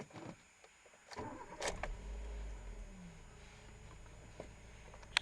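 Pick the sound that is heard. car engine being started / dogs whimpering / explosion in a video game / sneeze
car engine being started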